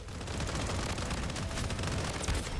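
Rapid gunfire from the Blood Strike video game rattles on continuously as a dense, steady burst of shots, moderately loud with no voices over it.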